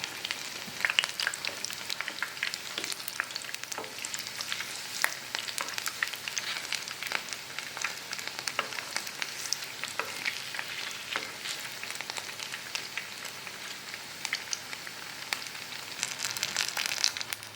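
Medu vada fry in hot oil with a dense, continuous crackling sizzle full of rapid small pops. The sound is steady and close throughout, with no speech.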